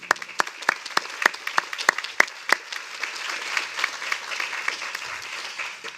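Applause ringing out at a spring commencement ceremony for a college graduating class, opening with a few loud distinct claps before settling into steady, dense clapping from a large crowd.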